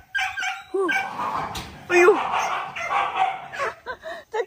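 A farm dog in rural China barks and yips fiercely in close, repeated bursts with some whimpering pitch, while people talk over it.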